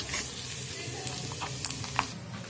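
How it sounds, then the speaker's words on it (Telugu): Small cut coconut pieces frying in ghee in a pan, a steady close sizzle throughout with faint scattered crackles and light stirring. "ఇప్పుడు చిన్న చిన్న ముక్కలుగా కట్ చేసుకున్న కొబ్బరి ముక్కని వేసుకొని గోల్డెన్ బ్రౌన్ కలర్ వచ్చేంత వరకు"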